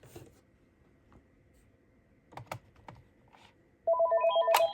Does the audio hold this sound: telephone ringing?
yes